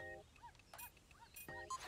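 A dog companion in the retro-styled video game Echo Generation gives a couple of short, yippy bark-like sounds amid quiet game sound effects and chiming tones, all fairly faint.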